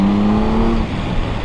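A Triumph Tiger 1200 Alpine motorcycle engine drones loudly and close up with a steady tonal whine and rough mechanical rumble as it pulls under acceleration, with no talking.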